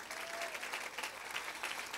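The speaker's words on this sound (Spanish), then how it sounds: "¿Qué tal si le das un fuerte aplauso al Señor?" Steady applause from a crowd at a church women's retreat, dense continuous clapping at a moderate distance, lasting throughout with no voices standing out.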